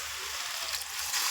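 Water poured into a frying bottle gourd and spinach (lau palong shak) curry gives a steady broadband sizzling hiss over a low bubbling rumble, swelling slightly near the end, with no talk.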